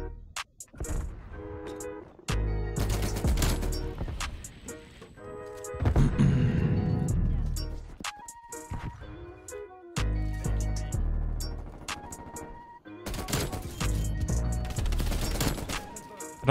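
An M60 machine gun in Call of Duty Cold War fires in long, loud sustained bursts separated by short pauses, the rounds chattering densely at close range with no voices over it.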